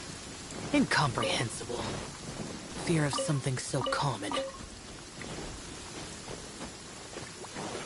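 Steady rain falls in Genshin Impact gameplay, a soft continuous hiss beneath a character's spoken lines that persists on its own once the voices stop.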